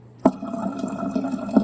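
A free hotel water refill dispenser pours into a container, giving a short, close, steady gush of running water that starts with a sharp onset.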